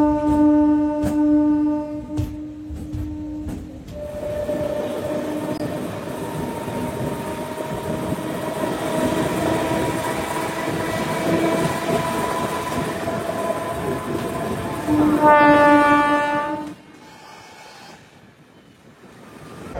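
A train pulls into Samalkot Junction railway station. It opens with a long, loud two-tone horn, then comes a steady rolling rumble of wheels on track, and a second horn blast sounds before the noise falls away near the end.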